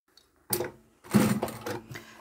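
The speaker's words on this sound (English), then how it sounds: "I'm going to now go and do just those two rows of stitching, and the bag is completely finished." A sewing machine stitches the top rows of a heavy-duty upholstery fabric tote bag. Two short, close bursts of whirring stitching are separated by a brief pause, with no talk.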